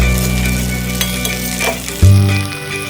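Vegetables for Bengali shukto sizzle loudly in a hot pan while being stirred and tossed, with a steady close frying hiss, a few soft scrapes and a sharp clink of the utensil near the end.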